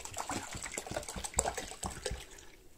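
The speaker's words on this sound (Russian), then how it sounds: "всю эту грунтовку я сюда выливаю" Leftover primer liquid is poured into a container at a paper-vine basket weaving table, giving a short run of splashing, trickling and gurgling that trails off at the end, close and clear with no talk.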